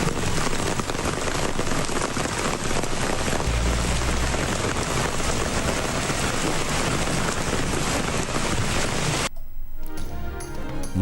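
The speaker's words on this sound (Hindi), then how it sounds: "मरी में गरज चमक के साथ मूसलाधार बारिश।" A heavy downpour in Murree hisses as a dense, loud, continuous wash of rain, then cuts off abruptly near the end.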